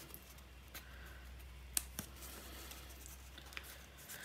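Scissors trimming small paper flower pieces in a quiet craft setting, a few faint, sparse snips and clicks over soft background hiss.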